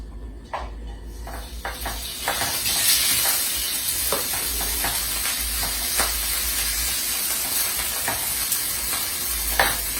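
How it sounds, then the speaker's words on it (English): Cold, refrigerated brown rice fries in a hot pan, giving a steady crackling sizzle broken by repeated scraping and stirring clicks. The sound is close and continuous. "I'm going to go ahead and fry this rice."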